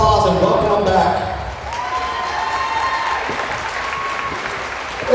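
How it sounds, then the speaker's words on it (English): Dense applause from a crowd in a basketball gym welcoming players back, loud at first and settling into steady clapping, with speech over it. "Why don't you give these players a round of applause and welcome them back."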